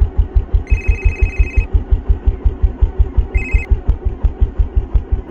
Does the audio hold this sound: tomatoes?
no